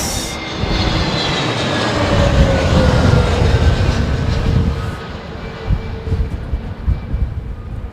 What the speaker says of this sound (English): The departing aircraft.